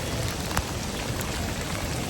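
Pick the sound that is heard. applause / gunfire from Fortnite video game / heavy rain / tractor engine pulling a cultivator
heavy rain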